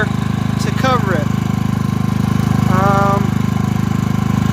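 A Predator 3500 inverter generator engine on its first run after break-in prep, humming steadily and loud with an even mechanical drone throughout, while a person talks briefly over it.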